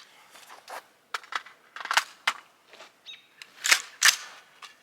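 Suppressed Faxon 16-inch 300 Blackout AR rifle firing subsonic rounds outdoors, a series of muffled sharp cracks and metallic action clacks in uneven succession.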